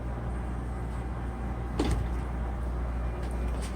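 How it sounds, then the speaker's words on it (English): The self-closing rear door of an armored 2016 Mercedes-Benz S600 VR7 pulls shut with one solid thump midway through, heard over a low steady hum. "Notice that the self-closing door features everything still function as it should."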